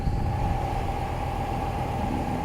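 A car engine idles steadily after being started by a two-way remote starter, giving a continuous, even hum with no speech over it.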